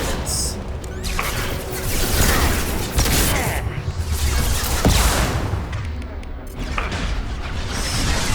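Rocket cannon blasts and explosions in Mass Effect 2 combat: a dense, continuous barrage of booming impacts and crashing debris, loud and close, with sharp bursts near the start and around the middle.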